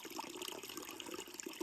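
Water being collected along a hiking trail in the Smokies on the Appalachian Trail, a steady rushing, splashing flow that carries on without a break and stays close and fairly quiet.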